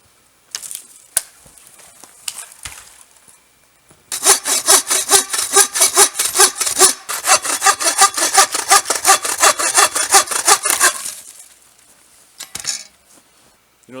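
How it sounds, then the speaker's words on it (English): A Trailblazer bucksaw cuts through fat wood at a snowy winter bushcraft camp, giving a steady run of rapid, close, rasping strokes for about seven seconds, with a few scattered knocks before and after. "this Trailblazer bucksaw,"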